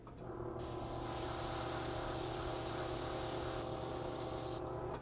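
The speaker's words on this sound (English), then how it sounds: "spray a little gray on the sides" An airbrush sprays gray paint onto the sides of a model Alco locomotive, one continuous, even hiss lasting several seconds, close and loud, starting and stopping cleanly.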